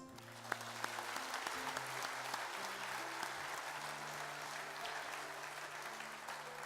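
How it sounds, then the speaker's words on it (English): Sustained applause from a large convention audience at the Kansas FFA Convention, recognizing Frontier Farm Credit: a dense, even wash of many hands clapping, steady throughout with faint crowd murmur and a few sharper claps near the start. "Join me in recognizing Frontier Farm Credit with a round of applause."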